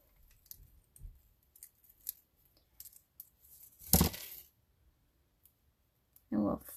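Scissors trim the end of a strip of card stock for a First Frost easel Christmas card, giving a few faint, close snips and clicks spread out over the moment, with one louder crisp cut near the middle.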